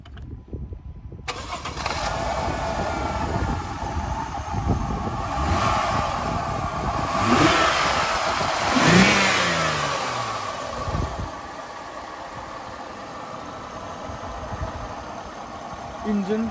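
A Mercedes car engine cranks and catches, revs briefly, then settles into a steady idle, heard close up with someone talking over it.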